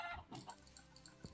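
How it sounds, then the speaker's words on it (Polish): Minecraft chickens cluck in short, quiet bursts, a few soft clucking calls scattered across a brief moment, faint and close. "są dwa kurczaki"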